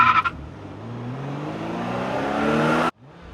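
A Tesla electric car pulls away on the road, its motor whine climbing steadily in pitch for about three seconds over tyre and road noise before cutting off abruptly.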